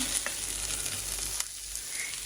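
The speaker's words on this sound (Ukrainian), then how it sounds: "І так, цибулька гарно підсмажилась, бачите?" Steady broadband sizzle of onion frying in a pan, with a few light scrapes and clicks of stirring; no voices.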